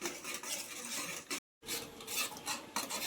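Steady rasping scrape of a spoon stirring thickening papaya halwa in a pan, a continuous close scraping that pauses briefly for an instant before resuming.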